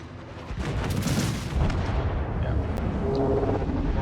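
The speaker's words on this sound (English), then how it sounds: "I expect Rocket's probably going to lose this engagement here in another few volleys" Warship guns fire volleys in a naval battle video game, heavy booming blasts that overlap into a loud rumbling wash, with sharper cracks early on.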